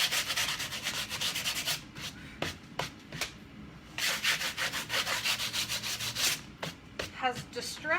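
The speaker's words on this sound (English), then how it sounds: "Bit of sandpaper." Sandpaper rubbed by hand over fresh paint on a studio artwork, steady scratchy back-and-forth strokes in rhythmic bursts, close and fairly loud, with brief pauses between passes.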